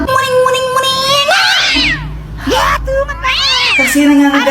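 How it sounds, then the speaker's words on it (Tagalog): A house cat meows loudly and close by, giving two long, rising-and-falling yowls with a short pause between them, with faint background voices. "May pusa pala kayo? Oo, pusa namin yan"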